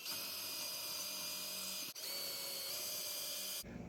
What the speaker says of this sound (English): so I can drill the first hole